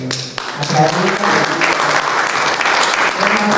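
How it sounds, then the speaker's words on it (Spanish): Applause from the audience at a book presentation, broad and sustained clapping from a roomful of people that swells quickly and stays strong, with a voice speaking briefly over it at the start. "Un aplauso."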